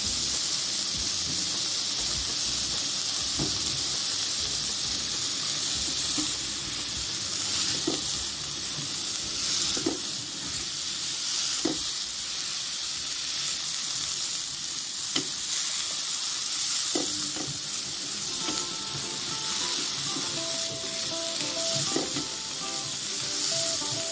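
Fish sauce (patis) hits a hot pan of vegetables with a steady, loud sizzle and frying hiss that runs throughout, broken by occasional stirring clinks and scrapes.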